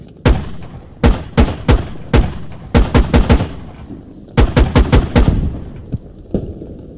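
Heavy gunfire in the military shooter Squad rings out in sharp bursts of loud, close shots, several clusters of rapid reports separated by brief pauses.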